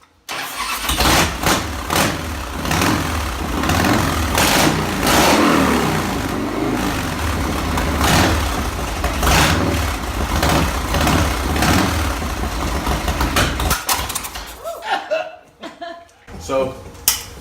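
A Harley Twisted Tea LowRider Softail motorcycle engine runs loud and close with a rough, lumpy idle and some revving, then cuts off near the end; people talk and laugh over it.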